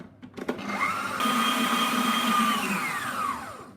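A stand mixer beats sugar and mascarpone into a mousse for a sponge Yule log cake, a loud steady motor whir with a higher whine that starts up after a few clicks and runs continuously.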